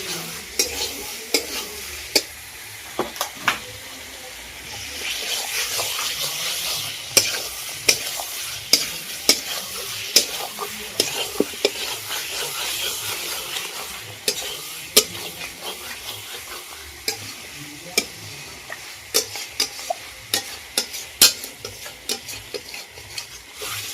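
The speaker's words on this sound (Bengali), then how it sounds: "গুঁড়ো লঙ্কা দিয়েছি তো একটু মশলা লঙ্কা দিয়ে ভালো করে এবারে মাখিয়ে নেব" Chicken being mixed with chili powder and spices for a chicken curry, giving steady wet stirring and squelching with frequent sharp clicks of a utensil against the pot, close and fairly quiet throughout.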